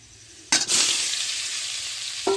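Tengra fish drop into hot oil with a sudden loud burst of sizzling, followed by a steady close crackle that flares again briefly near the end.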